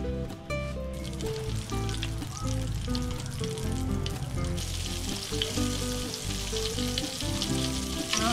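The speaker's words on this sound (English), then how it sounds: "and deep fry it" Salted egg meatballs dusted with tapioca flour deep frying in hot oil over low-medium flame, a dense continuous bubbling sizzle, close and loud throughout with no voices.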